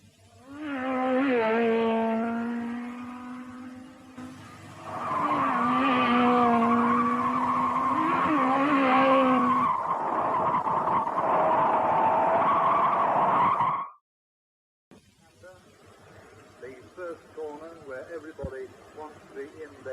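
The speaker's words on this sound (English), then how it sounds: "The Cadwell track really suits Formula 3 cars, and drivers were finding the limit by spinning off all over the place." Formula 3 race cars at Cadwell Park in 1969 scream past up close with loud, rising and falling engine notes, one long pass after another, then cut out before fainter engine sound returns.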